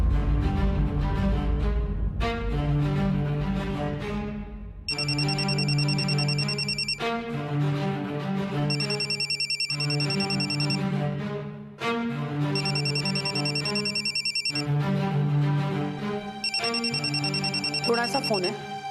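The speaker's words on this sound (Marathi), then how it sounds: "कोणाचा फोन आहे?" A telephone rings in a home, a repeating electronic ringtone in bursts with short gaps between rings, loud and close, continuing for a long stretch.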